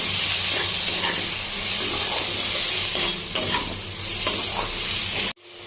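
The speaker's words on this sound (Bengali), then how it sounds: "এরপর ডালটা দিয়ে এই মশলাটা একটু কষিয়ে নেব।" Dal with salt, turmeric, cumin and Kashmiri chili powder sautéing in a pan, a steady close sizzle broken by occasional scrapes and stirring knocks, continuing without voices before stopping abruptly.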